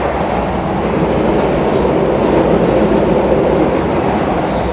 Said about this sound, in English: That's the train passing by.